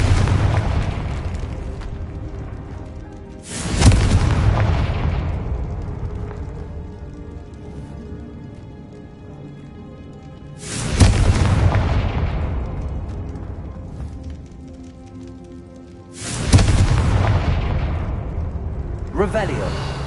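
The Confringo blasting spell in Hogwarts Legacy sets off three heavy, booming explosions spaced several seconds apart. Each blast strikes hard, then rumbles and fades slowly over a low, constant background.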